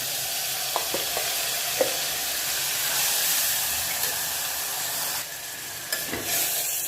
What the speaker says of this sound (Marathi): ह्याला 1-2 मिनिटं फक्त परतवून घेऊया।